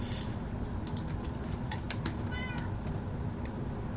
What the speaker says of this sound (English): This cat is very intelligent.